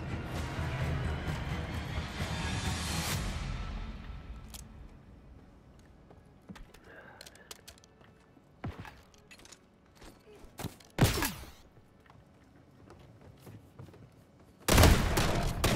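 A video-game infantry rifle fires single shots, isolated sharp cracks spaced irregularly after a stretch of noisy roar, with one loud burst near the end.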